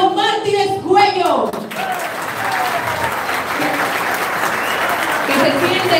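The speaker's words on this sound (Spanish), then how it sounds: "el aplauso para el licenciado Martínez Cuello" At a campaign office opening, a crowd bursts into applause for licenciado Martínez Cuello right after an announcer's voice, the clapping swelling in and holding steady and loud to the end.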